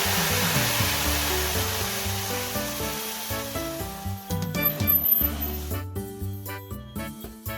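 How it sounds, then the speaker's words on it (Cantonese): Hot water poured into a hot, preheated oven for sourdough baking bursts into steam with a loud, broad hiss that fades over about four seconds, with music playing underneath. "落啲熱水，等佢充滿蒸氣。"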